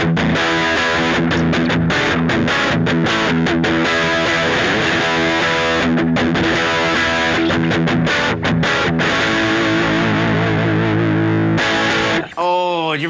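An electric guitar played through a Hiero Effects Heretic Fuzz pedal with some gain, giving a thick, distorted tone in loud, sustained riffs with rhythmic chops, running continuously before a brief squealing bend at the end.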